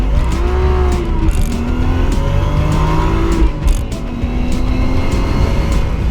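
A loud Lexus IS300 drift car engine revs and drones nearby, pitch rising and falling continuously, with rough mechanical noise throughout.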